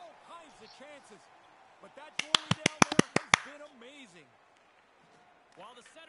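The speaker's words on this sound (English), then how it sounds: "Get the claps going." Spectators at an ice hockey game clap in a quick burst of about nine sharp, loud claps, heard over steady arena crowd murmur and nearby talking voices.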